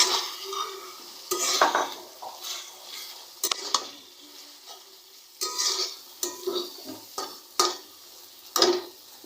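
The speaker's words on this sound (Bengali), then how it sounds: "এখন আমি এই মাছগুলো দিয়ে নিব।" Fish pieces going into frying spice paste in a pan, with irregular stirring scrapes, clinks of a utensil against the pan and a steady low sizzle, close and moderately loud, with no talk.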